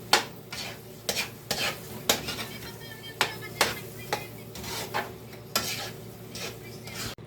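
Sticky rice simmering in coconut milk in a pot on the stove, with repeated sharp metal spoon scrapes and stirs against the pot over a steady low sizzle.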